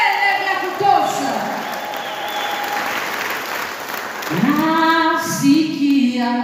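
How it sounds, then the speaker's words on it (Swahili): A church congregation at a Sunday service claps and ululates, the high trilling cries rising and falling over steady applause, with crowd voices mixed in. "Hebu mshangilie kwa makofi na vigelegele vya kutosha."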